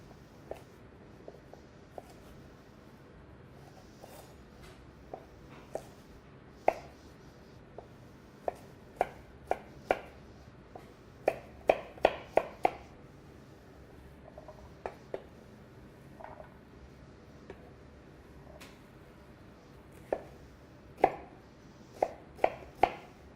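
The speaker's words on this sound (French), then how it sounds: "Carotte, on peut l'éplucher grossièrement." Carrots being peeled and cut on a board, scattered sharp knife taps, sometimes in quick clusters, close but fairly quiet, over a low room hush with no talking.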